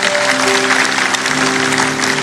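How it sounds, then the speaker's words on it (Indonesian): A church congregation at a Sunday service applauds in a steady, continuous burst of clapping that fills the room, with faint voices mixed in. "Berikan tepuk tangan untuk Tuhan."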